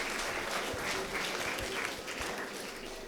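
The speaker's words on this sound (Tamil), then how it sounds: "அவருக்கு ஒரு கைத்தட்டல் கொடுத்துடலாம்." Audience applause in a hall at a college annual day event, a steady dense clapping that fills the clip with a few louder low thumps mixed in.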